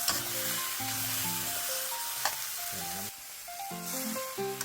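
Chinese kale stir-frying with a whole can of fish, meat and liquid, in a hot pan, a steady close sizzle running throughout with brief clatters of stirring, while sustained music tones play underneath.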